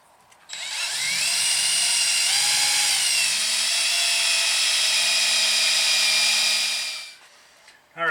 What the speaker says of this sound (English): we've got the self-tapping screws, or self-drilling screws installed